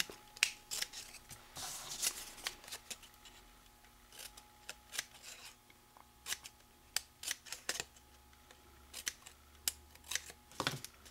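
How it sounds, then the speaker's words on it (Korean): Scissors snip through paper along marked lines for a paper cactus craft, making quiet, close, crisp cuts in irregular clusters with short pauses between them. "선대로 이렇게 2번을 잘라주세요"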